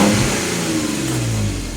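Modified 2015 Jeep Wrangler Sahara engine revving through custom exhaust tips, a deep, steady, fairly loud rumble that rises and falls in pitch over a short stretch, heard alone without talk.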